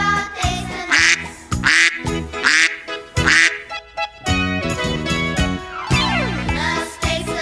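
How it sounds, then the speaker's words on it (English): Several loud, nasal duck quacks come in quick rhythmic bursts over a bright, tinkling children's farm-animal song melody. "Duck."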